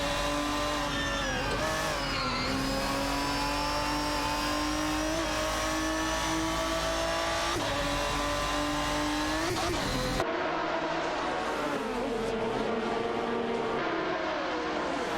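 A Koenigsegg CCGT race car in a racing video game, its engine droning loud and continuous with rising and falling revs and gear shifts, then a sudden change in tone near the end.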